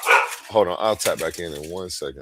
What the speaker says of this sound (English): Let's see what they're barking at.